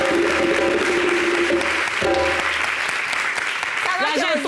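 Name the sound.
studio audience applause for two guests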